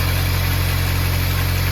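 A 2006 Smart Fortwo 450 engine idles steadily and smoothly after a PCV valve replacement, a constant low hum and throb with no voices.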